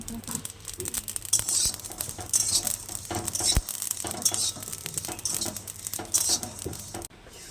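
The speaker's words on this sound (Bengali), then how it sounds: "মৌরিটাকে হালকা করে শুকনো খোলায় ভেজে নেব" Fennel seeds dry-roast in a pan without oil, making a steady, close scratching and light crackling patter as they are stirred.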